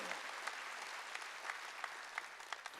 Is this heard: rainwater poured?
no